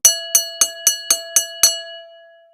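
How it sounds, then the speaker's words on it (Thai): A bright bell rings seven quick, evenly spaced strikes, then a clear tone lingers and fades away on its own. "เสียงระฆังนี่มันเกิดอะไรขึ้นกันเนี่ย"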